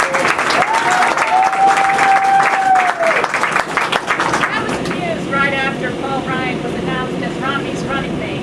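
Applause from a crowd at a political campaign rally, loud and sustained across the clip, with a voice heard early on under the clapping.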